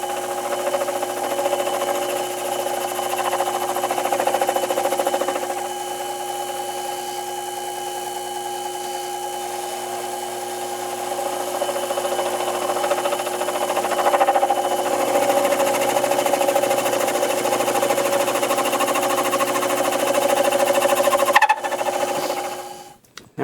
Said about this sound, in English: So I've turned our tool to where we can do a sharper shoulder cut.